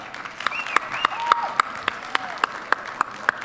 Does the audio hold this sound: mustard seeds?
no